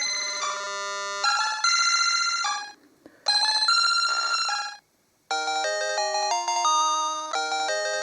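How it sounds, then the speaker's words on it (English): Glitched Pokemon Red game sounds loop over and over as bright, ringing chiptune tones and jingles in repeated bursts, with brief near-silent gaps between phrases, clear and loud with no talking. "It's just all the Pokemon sounds repeated over and over."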